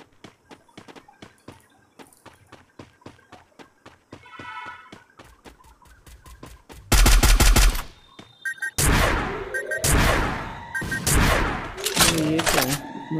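Gunfire from the video game Free Fire crackles in rapid bursts, first lighter repeated shots and then louder, heavier volleys close by, with game sound effects mixed in.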